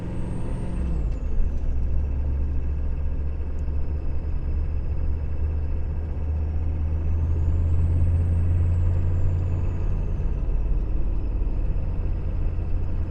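A 6.5 Detroit Diesel fitted with a Holset HX35 turbo runs at light throttle, giving a steady, loud low rumble with a faint turbo whine rising and falling over it, continuous and close, with no voices.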